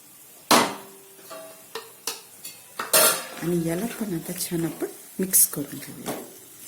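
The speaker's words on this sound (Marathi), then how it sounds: "आता याच्यामध्ये आपण आपली ही कांद्याची पेस्ट आहे हे टाकून द्यायची" Onion paste goes into a pan for chicken korma, with a few sharp metal clanks from a utensil against the pan followed by scraping stirring and a soft sizzle, while a voice talks over part of it.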